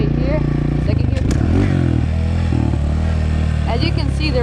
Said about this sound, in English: So when you're shifting down, you're gonna want to give her the revs.